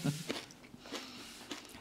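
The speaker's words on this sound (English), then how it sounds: "And Doritos are crunchy anyway, aren't they?" Crunchy Doritos crisps are chewed close up in a quiet room, a few soft crunches and bites in quick succession, faint and without talk.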